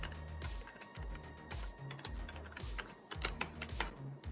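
Steady typing of code on a computer keyboard, rapid close key clicks with periodic heavier thumps like the space or enter key, continuous throughout with no talk.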